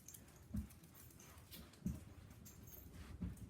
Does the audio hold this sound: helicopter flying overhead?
no